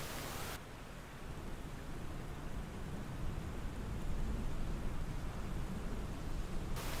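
Faint, steady rain in Microsoft Flight Simulator 2020, a soft even wash of noise that cuts in sharply and swells slightly toward the end before stopping abruptly.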